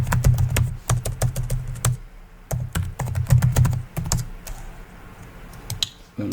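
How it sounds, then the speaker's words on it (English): Fingers type a password on a computer keyboard for a Linux Mint login, close and crisp bursts of rapid key clicks with short pauses between runs. "So we'll go ahead and type in the password for the user Eno here."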